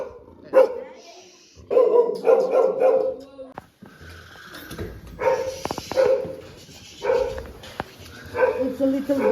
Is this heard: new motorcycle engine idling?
no